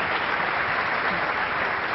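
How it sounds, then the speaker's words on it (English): Steady, dense audience applause after a startup pitch at a Startup Battlefield event, a continuous wash of clapping that holds at an even level for the whole stretch with no talk over it. "round of applause then for Duat"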